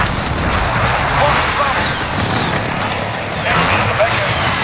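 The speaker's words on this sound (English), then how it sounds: "Enemy precision airstrike." Precision airstrike explosions rumble through a Call of Duty Modern Warfare Domination match on Shoot House, a loud, continuous barrage of booms and gunfire with radio voices speaking over the chaos.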